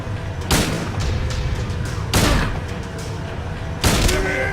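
Three loud, evenly spaced gunshots ring out while fighting Eddie in Silent Hill 2, each a sharp booming blast with a short tail over a steady background rumble.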